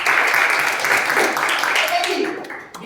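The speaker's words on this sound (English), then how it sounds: "Please give a round of applause." Applause from an audience at a talk, dense and loud at first and then thinning out over a few seconds, with some voices coming in near the end.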